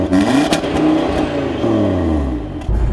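Audi TT RS with a turbocharged five-cylinder engine revving hard, its growl climbing and falling in pitch through repeated throttle blips, loud and close with no talking.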